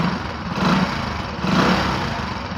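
A small two-stroke engine revs up and back down twice during an ignition coil spark test with an Oppama PET4000 checker. The buzzing whine is loud and close, with no talk over it.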